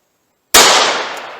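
A single sharp gunshot from a .32-caliber snub-nose revolver, firing .32 S&W Long or .32 H&R Magnum, cracks loudly after half a second of silence and rings off in a long decaying tail.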